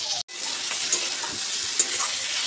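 Okra and shrimp fry with ginger and cumin paste in a pan, giving a steady close hiss and crackle with a few faint scrapes of stirring.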